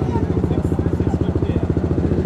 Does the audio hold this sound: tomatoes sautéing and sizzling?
no